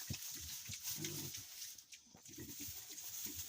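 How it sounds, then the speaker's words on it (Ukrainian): Piglets grunt and squeal in quick, playful bursts, close by, with a steady hum of farm noise in the background. "Ось граються поросятка"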